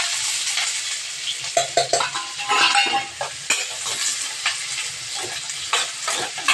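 Onion frying in hot oil with mustard seeds and dried chilies, a steady loud sizzle with stirring scrapes and utensil clinks throughout, no talk.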